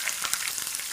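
Curry leaves and crushed garlic frying in hot oil for hotel-style bisi bele bath, giving a steady close crackling sizzle with small pops throughout and no voices.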